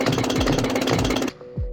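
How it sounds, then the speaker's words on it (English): Homemade drill sound effect made without a real drill, for a 2D puzzle mining game: a loud, rapid rattling burst like a jackhammer for over a second, then a sharp stop followed by a brief low thump. "I took the time to create a sound effect for the drill itself"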